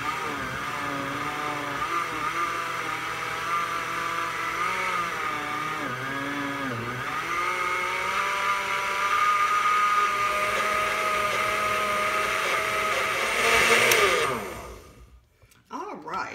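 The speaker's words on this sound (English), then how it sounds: "Okay, all the ingredients are in, guys, and we're ready to blend." A blender whirs through egg loaf batter with cinnamon, a steady motor drone that shifts pitch slightly as it runs, then winds down and stops near the end.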